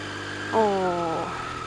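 A Yamaha YZF-R9 motorcycle engine revs briefly as the rider pulls away, a short whining, tonal surge that swells then fades against a steady background hum.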